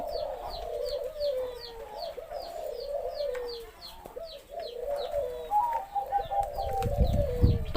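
A spotted dove coos in a repeated, rhythmic series of soft calls, close and clear, with faint bird chirps in the background and a low rumble near the end.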